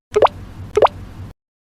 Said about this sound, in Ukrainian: Калюжа.